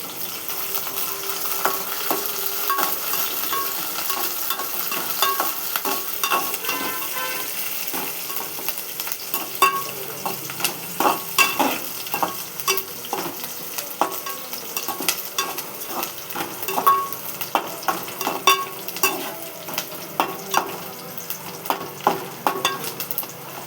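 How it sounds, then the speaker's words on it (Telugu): Onions and fresh curry leaves fry in a pan with a continuous close sizzle, broken by frequent scraping strokes of a spatula that grow more rhythmic and pronounced toward the end, with no talking. "వేయించుకోవాలి. ఉల్లిపాయ వేగాలి."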